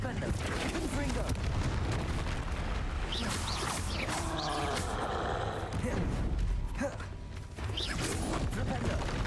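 Magic spell blasts in the video game Hogwarts Legacy during a fight with a troll, with repeated booming impacts and crackling bursts under excited voices casting spells.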